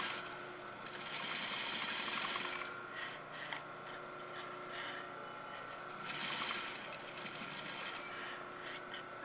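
A sewing machine stitches a blouse with a steady mechanical whir and rapid needle chatter, running continuously at moderate volume with slight swells in speed and no talking.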